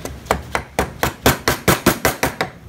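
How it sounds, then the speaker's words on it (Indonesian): A gouge chisel is tapped into wood while carving, giving about ten sharp, evenly spaced knocks at a quick steady pace, close and clear, with no talking. "Kalian juga harus harus belajar menggunakan pahat kol kayak gini. Sedikit-sedikit saja, jangan sampai langsung dipahat langsung dalam."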